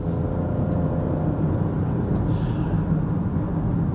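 A 2026 Buick Envista compact crossover drives and makes a turn, its engine and road noise a steady loud low rumble from inside the cabin, without speech.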